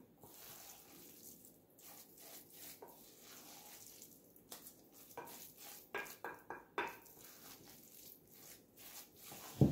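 A chicken mixture with salt, pepper and egg yolk is mixed in a bowl for chicken nuggets, giving soft wet squelching and scraping strokes, faint and close, growing busier toward the end.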